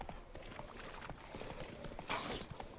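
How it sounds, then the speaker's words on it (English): Horse hooves clip-clop at a steady walking pace in The Witcher 3 video game, soft and continuous under quiet game ambience, with a brief brighter burst near the end. "200 nice, soft horse steps, and we will get there"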